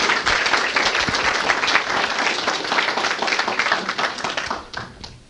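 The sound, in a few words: audience applause for speaker coming up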